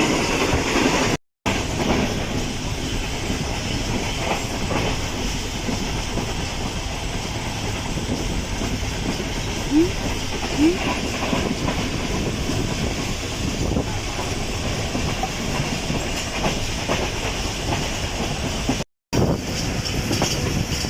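A passenger train slows down on its approach to Meting railway station, near coal mines, on a hot Karachi to Hyderabad journey. A steady rumble of rolling wagons carries on throughout, with faint rail clatter and brief squeaks, and nobody speaks.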